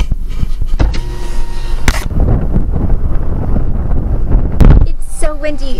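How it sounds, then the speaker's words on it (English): Loud wind buffets the microphone at Sand to Snow National Monument, California, with continuous low rumbling and roar, a few sharp knocks and faint tonal whines mixed in. "The wind is pushing the camera all over."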